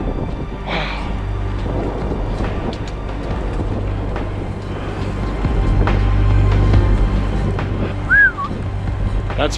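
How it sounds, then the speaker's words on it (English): Thunder rumbles during a passing storm heard from inside a truck, a deep, sustained rolling roar that swells midway, with faint rain and a brief whistle-like tone near the end. "Listen to that constant clapping of thunder."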